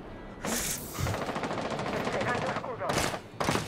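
An enemy shooting in Rainbow Six Siege: a sustained, dense crackle of automatic gunfire lasting a few seconds, then sharper separate bursts near the end, loud and close.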